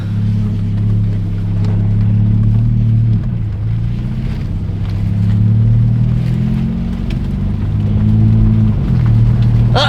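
A 1.8T car with a DSG DQ250 gearbox pulls away, its engine droning low and steady at close range for the whole stretch, with slight rises in pitch as it moves off.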